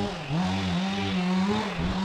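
A Stihl chainsaw runs steadily in a forest work setting, its engine droning loud and close at a fairly even pitch with slight revving wobbles, with no voices.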